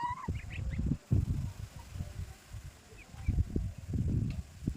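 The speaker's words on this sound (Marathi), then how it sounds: "छोटे पिल्ले तर इतकी छान असा आवाज करतात, किलबिल किलबिल करतात." Chickens cluck and call in bursts nearby, with faint high chirps from chicks scattered through the steady low clucking.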